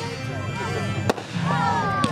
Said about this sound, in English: Next item up is called Helter Skelter. 20-shot Helter Skelter.